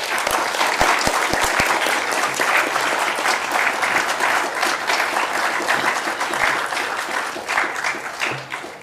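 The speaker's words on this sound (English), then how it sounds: "Shall we give a round of applause for our winner?" An auditorium audience at an award ceremony claps for the winner. The applause is loud and continuous, with a few sharper individual claps early on, and it tapers off at the close.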